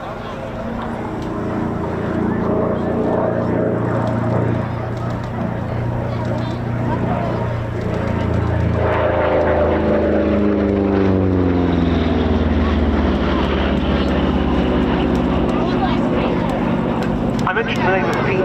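A P-47 Thunderbolt propeller fighter diving at the RAF Cosford air show, a loud piston-engine drone whose pitch sweeps downward as it passes, under steady commentary from a man.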